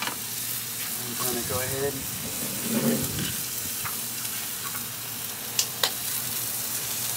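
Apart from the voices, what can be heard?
flat iron steak sizzling in pan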